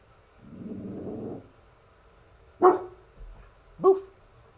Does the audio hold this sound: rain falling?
no